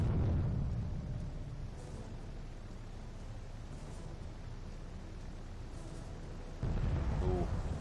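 Naval cruiser guns firing in the Victory at Sea Pacific naval combat video game, a sustained rumbling barrage of booms that swells louder near the end, with no speech over it.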